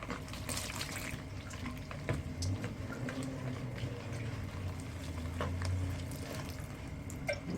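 Steady lukewarm running water pours continuously, like a tap flowing into a sink, rinsing food, with a low hum and occasional clinks underneath; no talking.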